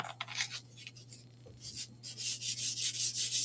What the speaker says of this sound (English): Let me do a little sanding on this thing.